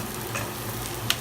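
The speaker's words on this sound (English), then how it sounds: "It's almost brown and the garlic is almost brown. It's cooked." Garlic frying in a pan until nearly brown, a steady soft sizzle with faint stirring scrapes, ending in a brief sharp click near the close.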